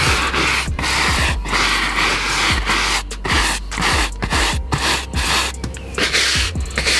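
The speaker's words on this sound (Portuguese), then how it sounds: "Vamos esfregar aqui no banco." A brush scrubs foam cleaner into an Audi TT car seat, giving loud, close, rhythmic swishing and rubbing strokes with brief pauses between them and no talk.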